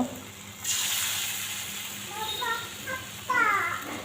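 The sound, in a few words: fritters (bora) frying in hot oil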